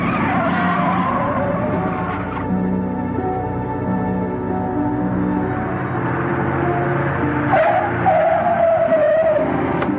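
Car from a 1949 crime film braking hard and skidding, a loud sustained tire squeal with engine roar running the full length, rising to a sharper screech near the end.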